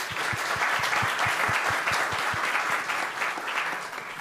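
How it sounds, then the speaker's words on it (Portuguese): Audience applause at a theology lecture, a sustained wash of clapping with a few distinct close claps repeating in a steady rhythm early on, then thinning slightly toward the end, with no speech over it. "E aplausos."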